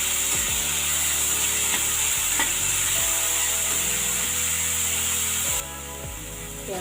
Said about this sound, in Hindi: थोड़ा भून लेते हैं